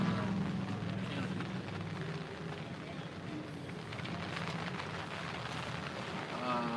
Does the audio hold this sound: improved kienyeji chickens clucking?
no